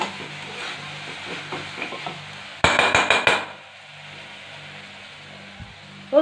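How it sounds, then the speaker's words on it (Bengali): Chicken and vegetables sizzle as they are sautéed in a pressure cooker, with soft scraping stirs and then a quick burst of sharp metallic clinks from a spoon against the pot. "সবজি সব দিয়ে একটু কষে নিচ্ছি প্রেশার কুকারের মধ্যেই"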